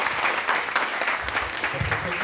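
An audience at a diction and public-speaking class breaks into applause, a continuous bed of clapping hands with a voice speaking faintly underneath.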